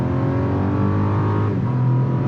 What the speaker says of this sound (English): All right, 0 to 60, flat footing it, 3, 2, 1, go.